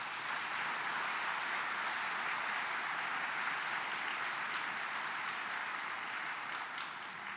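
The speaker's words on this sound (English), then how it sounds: "Please give them all a round of applause." An awards luncheon audience gives honored guests a round of applause, heard as an even, steady patter of clapping that continues for several seconds at a moderate distance.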